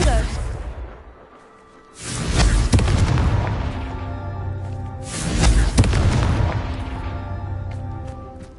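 Two loud fiery spell blasts from the Confringo curse in the video game Hogwarts Legacy, each a heavy booming explosion with a long rumbling tail, spaced about three seconds apart.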